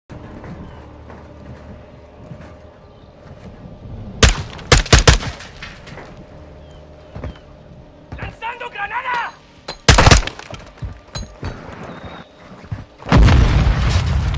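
Gunfire in Call of Duty Modern Warfare 2 during a mission: sharp, loud shots and booming bursts crack out in irregular clusters over steady background noise, with a heavy sustained barrage near the end.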